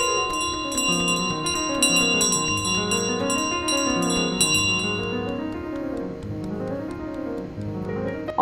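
The golden bell in Untitled Goose Game rings repeatedly in a bright, shimmering rapid chime amid the model village, tones ringing out and decaying toward the end, no talk.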